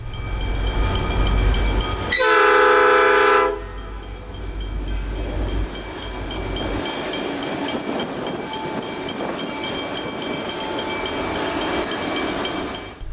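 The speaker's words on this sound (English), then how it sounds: "3 G-Class depart with a 56 wagon intermodal train" Three Pacific National G-Class locomotives sound a loud horn blast at Dynon Goods Yard, then engines rumble and wagons clatter steadily as a 56-wagon intermodal freight train pulls away nearby.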